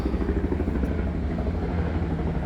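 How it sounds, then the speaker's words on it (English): A helicopter's low, pulsing rotor thump drones overhead, steady and fairly loud throughout. "It's like a helicopter flying overhead."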